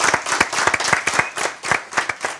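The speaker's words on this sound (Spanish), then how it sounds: "así que bueno, un aplauso" An audience at a variety show claps enthusiastically, loud and close, with individual claps clearly audible in a quick, uneven rhythm.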